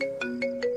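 A phone ringtone plays alone at low volume, a short electronic melody of repeated tones pulsing about every fifth of a second.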